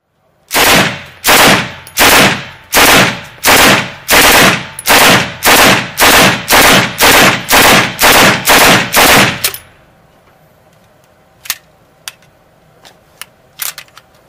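A MAT-49 submachine gun fires about a dozen loud, close bursts in quick, even succession. Then it falls quiet except for a few sharp mechanical clicks.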